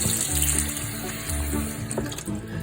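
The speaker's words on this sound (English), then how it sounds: "you want to wash them in one batch of water to start with, and then you want to transfer them over into another batch of water" Tomatoes being washed by hand in a dish pan of water for canning, with close splashing and sloshing as the water is stirred, continuous and busy with no talk.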